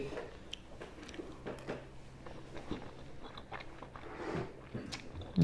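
Someone chews chewy fish balls close to the mic, with soft, irregular squishy bites and smacking over a quiet background.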